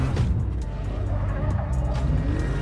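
A car engine roars through a film chase, with rising revs, squealing tyres and passing vehicles layered over a steady, dramatic soundtrack mix.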